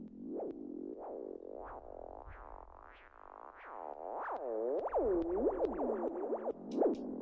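A repeating synth loop in Ableton with a wet delay effect, bouncy pitch-swooping tones that pile up into echoing stereo repeats toward the end, steady and fairly quiet with no voices.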